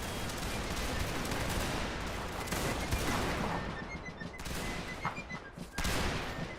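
A dense, roaring volley of gunfire in a video game battle, loud and continuous with crackling bursts layered over one another, no voices standing out.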